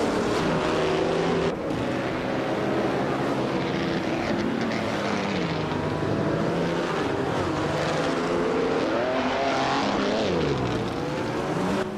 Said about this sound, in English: the 1938 Auto Union Type D, a powerful and innovative race car from that era.